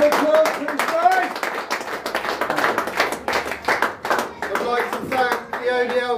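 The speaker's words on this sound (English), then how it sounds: "Round of applause, please" Clapping from a gathering at a darts tournament prize presentation, steady hand claps in a moderate-sized group under music and voices, lasting several seconds.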